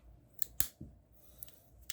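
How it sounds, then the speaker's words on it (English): A few crisp snips from multitool scissors, sharp and close, spaced irregularly over a quiet background. "Good scissors."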